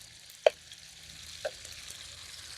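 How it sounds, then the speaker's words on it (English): Tomatoes, onions and scotch bonnet pepper sautéing in a pan outdoors in the wilderness, a quiet steady sizzle with two sharp taps of a utensil against the pan. "we are right here with some tomatoes, some onions, and some scotch bonnet pepper. So we are sauteing down this guys"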